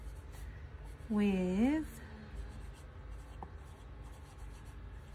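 A Lamy LX Marin fountain pen with a medium nib writes on paper, giving a soft, steady scratch, with a brief voiced tone partway through.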